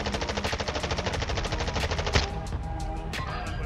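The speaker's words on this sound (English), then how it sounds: "Oh, where the fuck am I being shot at from?" Rapid automatic gunfire in the video game Warzone 2.0 rattles in close, loud, evenly spaced bursts for about two seconds, then cuts off, leaving a quieter tail with a few scattered shots.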